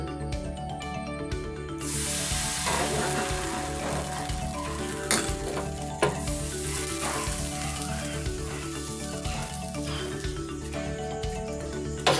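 Vellayappam batter on a hot appam pan over low flame, a loud, continuous hissing sizzle that holds steady for many seconds, with faint clinks and a few sharper crackles mixed in.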